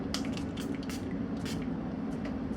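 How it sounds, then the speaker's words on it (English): Short misty hisses from a rose facial spray bottle, several quick pumps spaced irregularly, close and fairly soft over a steady low background hum. "So this is a rose spray."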